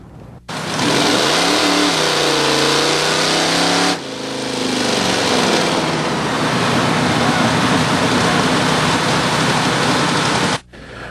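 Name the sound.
El Camino 350 drag racing a blown 350, engines revving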